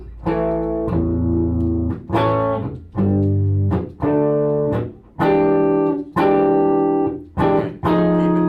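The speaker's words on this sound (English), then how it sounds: "the Tweed distortion is richer and a little bit fuller voiced" An electric guitar played through a Quilter Tone Block 200 amp head on its Tweed distortion setting rings out in eight loud, full chords, each held about a second then cut, with no talking.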